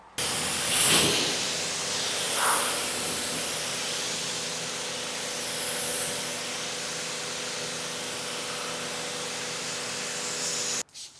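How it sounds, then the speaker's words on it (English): A steady hiss of detailing product sprayed onto a Ram TRX pickup truck, continuous and fairly close, with a few louder bursts early on before the spraying cuts off at the end. "We're just gonna start spraying. Get a nice thorough coat."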